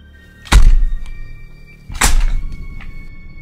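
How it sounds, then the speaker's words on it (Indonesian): A door opening as a horror-story sound effect: two heavy, close thunks about a second and a half apart, each with a brief knocking tail, heard alone. "bunyi pintu terbuka"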